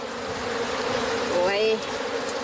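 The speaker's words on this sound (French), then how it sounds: "il y a beaucoup d'abeilles dans la mangrove" Honey bees drone thickly around hives in a mangrove at Joal, a continuous close buzzing swarm with one brief louder pass near the middle.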